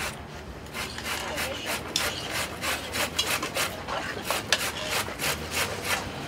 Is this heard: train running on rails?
no